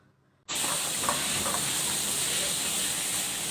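Minced pork stir-frying in a hot pan, a steady loud sizzling hiss that begins abruptly and continues unbroken.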